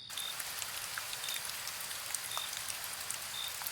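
Steady rain pours over a rural Bengal village field at night, a constant even hiss with scattered individual drops ticking through it, with no voices.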